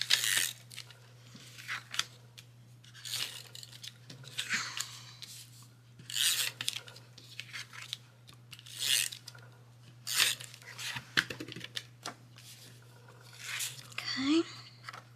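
A tape runner rasps in repeated short strokes across gift wrap on a cluttered desk, close and fairly loud, with a steady low hum underneath and no speech during the strokes.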